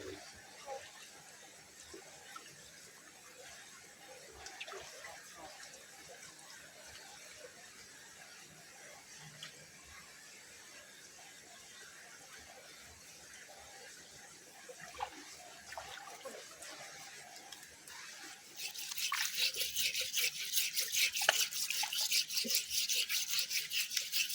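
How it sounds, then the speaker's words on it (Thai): Vegetables and dishes washed by hand with water at a simple farm-field hut, steady splashing and trickling throughout that grows louder and brighter near the end. "เก็บผักแล้วก็มาล้างผักล้างถ้วยบวง"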